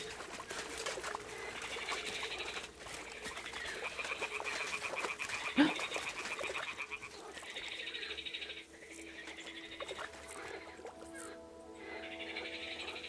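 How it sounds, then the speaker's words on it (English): Frogs croak continuously in a pond scene in Kingdom Come: Deliverance II, a dense, steady chorus of rhythmic croaks filling the whole clip at moderate loudness with no talk. "Oh god, the croaking."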